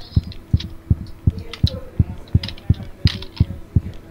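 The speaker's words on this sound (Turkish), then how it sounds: "Kalp atışları çok hızlandı." A fast heartbeat effect thumps in the Roblox game Frogge, about a dozen evenly spaced low beats in quick rhythm, with faint clicking and game noise in the background.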